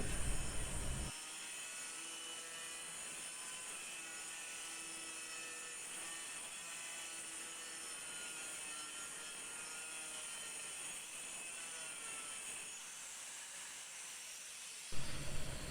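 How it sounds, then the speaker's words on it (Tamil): A cutting machine with a cutting wheel slices through a wooden block. It gives a loud, steady whining hiss that starts abruptly and holds for about fourteen seconds before cutting off. "இப்போது கட்டையை கட் பண்ணிகிட்டு இருக்கோம்"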